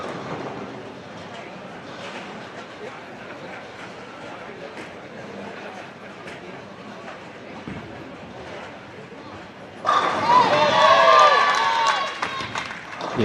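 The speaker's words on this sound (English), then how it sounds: "Caden's ball there hit the pins like a freight train." Bowling ball crashing into pins on a lane at a European youth bowling championship, a sudden loud clatter after a long rolling rumble, with crowd noise in the background.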